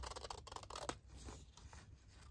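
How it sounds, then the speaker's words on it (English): Scissors cut across a paper envelope flap at an angle, a quiet run of close, crisp snipping and scratchy paper sounds lasting about two seconds. "I'm gonna cut it at a slight angle"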